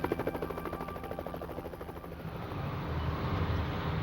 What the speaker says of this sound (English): choppers circled overhead